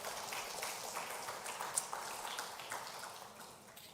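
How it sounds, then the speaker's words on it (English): Steady crackling applause from a conference audience at an International Women's Day event, dense and sustained throughout, fading slightly toward the end. "Please, a round of applause for all of you."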